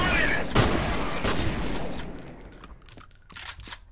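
Dense rapid gunfire from the shooter game FEAR bursts loudly at the start, then thins into scattered shots and impacts while a voice talks faintly beneath.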